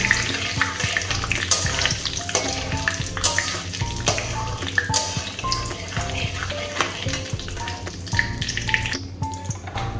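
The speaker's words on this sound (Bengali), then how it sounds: "এবার আমি ফোড়নগুলো সব দিয়ে দেবো, গরম মশলা, তেজপাতা, শুকনো লঙ্কা, ফোড়নটা দিয়ে দেবো।" Whole garam masala, bay leaves and dried red chillies sizzle in hot ghee in a pan, a continuous crackling fry with scattered sharp pops and clicks of stirring throughout.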